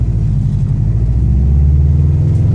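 Steady low engine rumble from a 2004 Subaru STI being driven, loud and constant from inside the car with no clear revving peaks.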